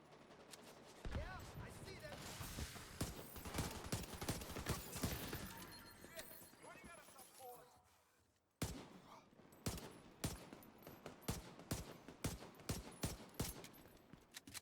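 Pistol fire in The Division 2 during a PvE zone fight: rapid bursts of shots and impacts under busy game noise, dropping out briefly, then resuming as a string of sharp individual reports, with a player's voice faintly present.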